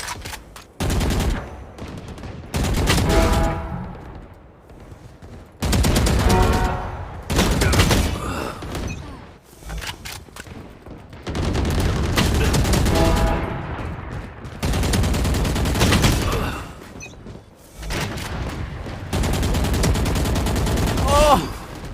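Gunfire hits a target in GTA on the Hope Town server: loud rapid bursts of shots come in repeated volleys, each separated by short pauses.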